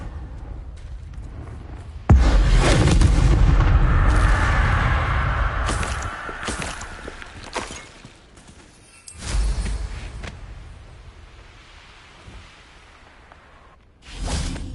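Confringo blasting spell cast in Hogwarts Legacy on PS5: a sudden heavy whooshing blast with a rumbling tail lasting several seconds, followed by further softer magical swishes and bursts.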